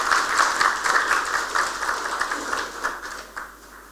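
Warm applause at a diplomatic gathering in Cameroon welcoming Senegal's new ambassador, a dense crowd clapping steadily and fading gradually over a few seconds.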